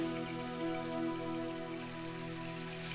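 A rain sound effect plays at a religious festival event, a steady soft patter of drops and trickling water spread evenly throughout, with a sustained musical drone beneath it and no one speaking.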